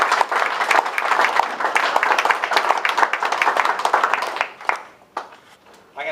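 Applause from the crowd at a clubhouse celebration launch in Campbelltown: a full, lively burst of many clapping hands with some crowd noise, thinning out toward the end into a few scattered claps.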